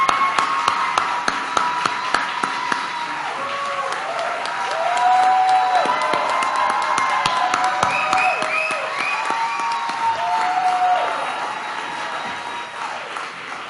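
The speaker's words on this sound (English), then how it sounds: "please stand up so we can give you a special clap" A crowd at the Harlem Fine Arts Show 2018 gives sustained applause for doctors being saluted: dense, steady clapping that swells midway, with scattered voices mixed in.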